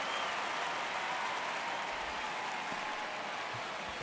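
A steady wash of crowd cheering and applause fills a Colorado ballpark in the baseball video game MLB The Show 26, moderately loud and continuous throughout with no voices standing out.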